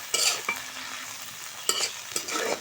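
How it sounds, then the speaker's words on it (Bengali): Pea greens frying and being stirred in a pan on a stove, with spatula scrapes and bursts of sizzling at a steady close range and no talk. "শাকটা চুলার উপরে দিয়ে দিছি।"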